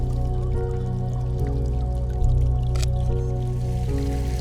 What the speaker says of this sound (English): Got this little fountain here coming into the water.